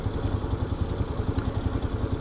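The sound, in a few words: Kawasaki KLR 650 motorcycle engine idling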